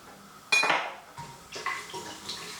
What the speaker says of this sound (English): I'm going to add my whole spices in, along with the cumin seeds